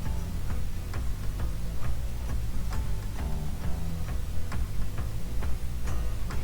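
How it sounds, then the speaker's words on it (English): Sugar whisked by hand in a bowl for a moist apple cake, giving a steady run of quick, evenly spaced ticking strokes up close, with no voices. "Then place in the sugar and whisk that well"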